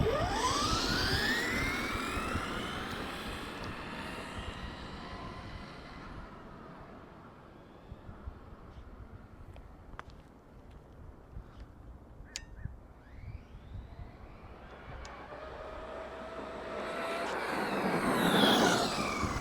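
A Stampede 4X4 RC truck at full throttle passes by, starting as a loud whine that fades into the distance and returns with a rising, high-pitched electric whine at the end, with no voices.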